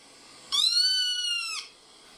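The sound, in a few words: kitten meowing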